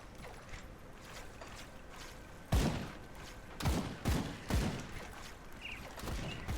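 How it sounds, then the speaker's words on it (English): Goblins firing guns in the video game Grim Dawn: several sharp, separate gunshot cracks over a low ambient bed, the first loudest, followed by a quicker cluster of three or four shots at moderate distance. "Goblins with guns."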